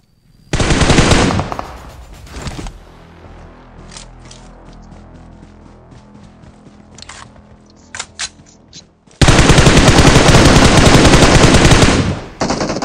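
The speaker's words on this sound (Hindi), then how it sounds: "इतने में बगल से फायरिंग आ रही होती है" Loud sustained automatic gunfire in a BGMI/PUBG Mobile squad fight, one long burst near the start and another long burst near the end, with scattered single shots and quieter game ambience between them.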